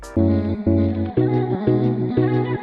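A vocal chop sample played in Logic Pro, chopped into five rhythmic sustained bursts with reverb and a layered, effected tone, loud and alone with no talking.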